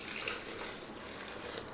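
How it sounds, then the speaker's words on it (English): Water is poured into a pan while keto bread is being made, giving a steady, soft splashing stream that runs evenly throughout with no voices. "So I'm gonna kind of put the water in now"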